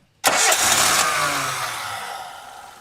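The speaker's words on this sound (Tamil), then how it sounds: "இந்த இன்ஜின் வந்து ஸ்டார்ட் பண்ணி எப்படி இதனுடைய நோட் இருக்குது அப்படின்றத கேட்டுருவோம்." A Mitsubishi Lancer SFXi engine cranks and fires up abruptly, roaring close and loud before settling and fading over a couple of seconds.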